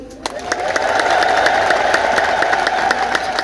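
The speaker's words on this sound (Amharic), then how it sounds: "እስኪ አጨብጭቡ አንድ ጊዜ።" A church congregation claps together at a religious teaching gathering. The clapping is loud, sustained and fairly rhythmic, with voices in the crowd.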